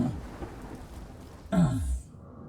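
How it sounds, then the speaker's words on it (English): Thunder and rain in the video game Space Engineers: a steady wash of rain hiss, then a sudden loud thunder crack that rolls into a deep low rumble and fades after about half a second. "it's thundering"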